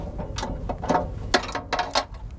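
Latches and locking devices on a truck-mounted pole jack are undone by hand, giving a quick series of metallic clicks and ratcheting clatters at close range.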